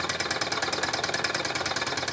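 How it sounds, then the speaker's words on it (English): A Wilesco toy Stirling engine runs steadily, close and fairly loud, with a fast, even mechanical clatter that repeats at a constant rhythm throughout, with no voices. "a prime example of a toy Stirling engine rather than Stirling engine"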